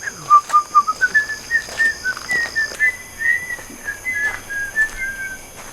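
A person whistles a wavering, sustained tune outdoors at the haunted McRaven Mansion, near a former field hospital site, clear and alone.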